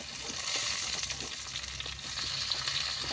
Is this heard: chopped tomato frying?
yes